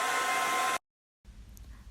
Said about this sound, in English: I saw many girls using a blow dryer to dry their hair